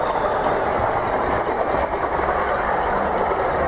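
Renfe AVE high-speed train running in Spain, a steady loud rolling rush with continuous rail noise and faint clickety-clack throughout, no pauses.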